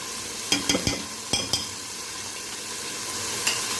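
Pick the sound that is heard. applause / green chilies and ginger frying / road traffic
green chilies and ginger frying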